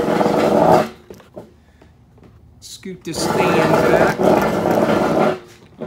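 Honda CT70 minibike fitted with a Lifan 125cc engine running close by in a garage, rough loud bursts of engine noise separated by a quieter lull, with someone speaking briefly in between.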